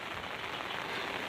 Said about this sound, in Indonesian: beginilah suasana ketika hujan di kampung halaman sahabat